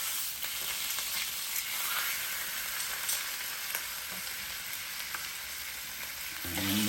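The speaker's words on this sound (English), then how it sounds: "Let them get, at least saute them just for them to get a little brown." Oxtails sizzle and fry in a Power XL electric cooker, a steady close crackling hiss with a soft clunk near the end.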